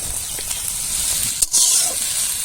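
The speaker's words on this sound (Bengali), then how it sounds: "তেলে দিয়ে দিব গোটা জিরে শুকনো লঙ্কা তেজপাতা কাঁচা লঙ্কা চেরা পেঁয়াজ কুচি এখন দিয়ে দিচ্ছি কচুর লতি" Taro stolons (kochur loti) hit hot oil already holding whole cumin, dried and green chillies, bay leaf and chopped onion, giving a loud, steady hiss and sizzle with a sharp surge as they go in.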